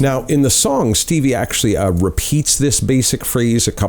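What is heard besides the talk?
None of the usual background noises is heard.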